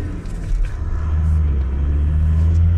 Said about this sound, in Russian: Вах, какой трактор едет!